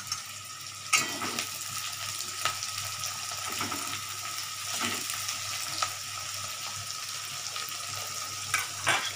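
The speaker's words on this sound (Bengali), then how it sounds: "পেঁয়াজগুলো ভাজা ভাজা হবে" Onions fry in a pan with a steady, close sizzle, joined by light stirring scrapes and a few sharp clinks; a constant low hum runs underneath and no one speaks.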